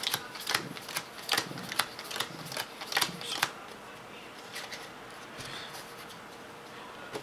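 Cards for The Realms of Mindrin Wars board game dealt face down onto a table, a quick series of soft slapping snaps over the first few seconds, then quieter shuffling and sliding; close and fairly faint, with no talk.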